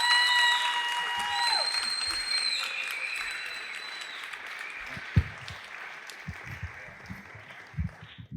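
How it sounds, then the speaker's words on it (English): Audience applause at a televised talent show, steady clapping and cheering that sustains at a moderate level throughout, with some whooping tones early and a few louder individual claps and bumps toward the end. "can we please have the best of order and a massive round of applause for Paul!"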